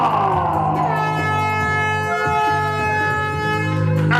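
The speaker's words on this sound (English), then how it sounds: "And the air horn" Air horn blasting loudly and continuously at a UK wrestling show, a sustained blaring tone held for several seconds, close and dominant with crowd noise underneath.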